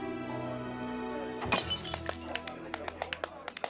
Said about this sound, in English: finishes his wine, and tosses the glass to the ground.